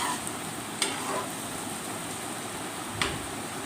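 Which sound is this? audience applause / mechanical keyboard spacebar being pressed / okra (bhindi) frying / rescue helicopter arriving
okra (bhindi) frying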